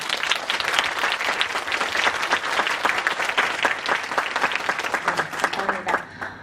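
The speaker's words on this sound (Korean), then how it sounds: "여기 계시는 많은 분들께서 따뜻한 축하 박수를 쳐주시면 감사하겠습니다" Audience applause at a university Japanese education department's academic festival stage event, sustained dense clapping from a large crowd for about six seconds, fading near the end.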